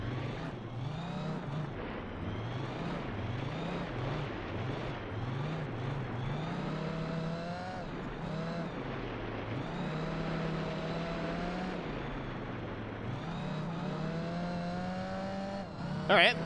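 A Gran Turismo 4 race car engine revs and drones, its pitch climbing and dropping through repeated gear shifts and throttle lifts, loud and close, with quiet talk running underneath.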